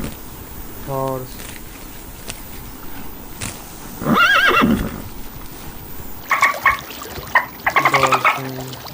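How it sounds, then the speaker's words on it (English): A horse whinnies in a loud, shaky neigh, with shorter snorting calls and clopping or splashing sounds around it, standing alone without talk. "horse"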